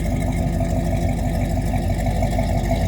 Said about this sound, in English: It's got Flowmaster exhaust on it